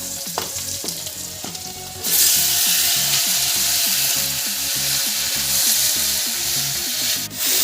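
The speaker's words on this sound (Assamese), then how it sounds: "ঔটেঙাটো ভাজি আছোঁ মই" Elephant apple pieces fry in a pan for fish curry, a loud continuous sizzle with rhythmic scraping of a spatula stirring close up.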